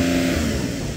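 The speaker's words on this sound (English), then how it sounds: "Go on, rev it up now." A car engine revs hard and holds near its soft limiter, a loud, sustained buzzing drone lasting about a second with slight fluttering as the limiter cuts in.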